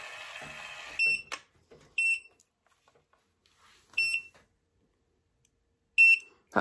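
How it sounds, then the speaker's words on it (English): Four sharp electronic beeps sound at regular intervals, roughly every two seconds, loud and clear against near silence. "That beep's right annoying."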